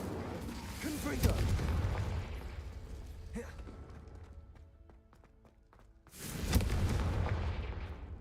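Explosive Confringo spell blasts in the Hogwarts Legacy video game, heavy booming bursts near the start and again near the end with a quieter stretch between, and a voice calls out spell names over the action.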